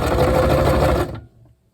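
A sewing machine runs in one steady burst while stitching a drawstring rucksack, loud and close, then stops abruptly and leaves near silence.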